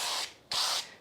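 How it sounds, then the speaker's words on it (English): Cooking spray hisses onto parchment paper lining a cake pan for a Texas sheet cake, in two bursts: a short one, a brief pause, then a longer spray, close and loud. "I'm going to spray my parchment"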